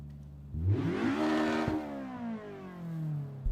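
A racing car engine in a racing video game (Assetto Corsa, WSC Legends car at Riverside) revs up sharply with rising harmonic whine, holds high revs, then falls and climbs again, loud and close with no talking.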